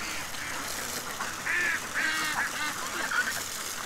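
Ducks quacking as they are fed, a flock giving repeated nasal calls in short bursts over steady outdoor background noise, with no talking.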